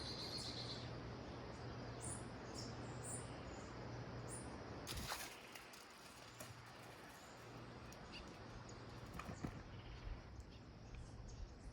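Birds and insects chirping outdoors near mountains before dawn, faint scattered tweets over a steady insect hum and quiet open-air background, with no talking.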